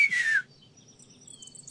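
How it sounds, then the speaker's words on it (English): One short, bright whistle from a person glides downward at the start, then quiet follows with faint tones and background noise. "Can you whistle? Like this?"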